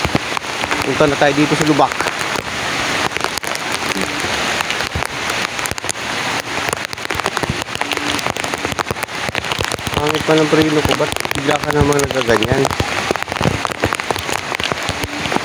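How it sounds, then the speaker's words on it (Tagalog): Heavy rain pours steadily in a dense, hissing roar on a stormy commute, loud throughout, while someone talks over it at intervals. "Bakit ganito naman yung ulan?"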